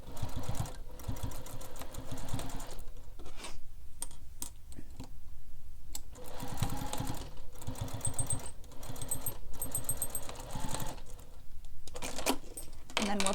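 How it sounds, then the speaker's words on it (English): A home sewing machine top stitches along the edge of a backpack strap tab, running in quick, rhythmic bursts of stitching separated by short pauses. "You're just top stitching along that edge"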